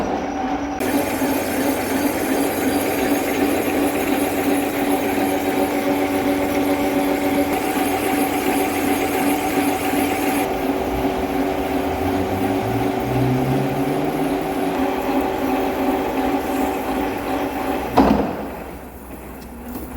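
Kitchen & Walker horizontal facing and boring machine cutting at 1 mm depth with the feed raised to 1 inch per minute: a steady, loud mechanical drone with whining tones, continuing unchanged for most of the span before a brief clunk and a drop in level near the end.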